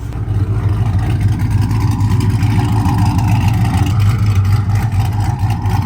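A Dodge Charger SRT8 with a custom exhaust revving up, a loud, deep, steady engine roar held close by with no talk over it.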